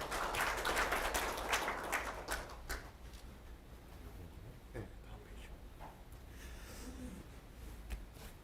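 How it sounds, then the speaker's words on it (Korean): Audience applause at a TISAX information-security seminar in Korea, moderate clapping from a seated crowd for the first three seconds, then fading into quiet room tone with faint scattered claps. "박수로 환영해 주시기 바랍니다."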